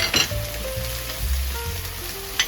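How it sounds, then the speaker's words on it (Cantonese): Spring greens stir-fried over high heat in a wok with shiitake and carrot, sizzling steadily, with a few scraping stir strokes of the spatula and a soft clink near the end. "咁炒青菜咧，我哋一定要開大火"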